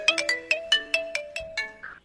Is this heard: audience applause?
no